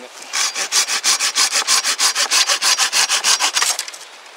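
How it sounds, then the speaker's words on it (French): A Silky Gomboy hand saw rasps steadily through a branch about 5.5 cm thick in quick, even back-and-forth strokes, close and fairly loud, with no voices. "je vais venir un petit peu couper du branchage pour finir par le tronc"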